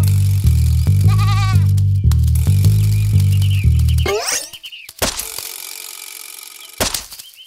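Sheep bleating in a children's bedtime story about a boy and a wolf, a loud repeated cartoon-like bleat over a plodding musical backing, followed by clattering effects.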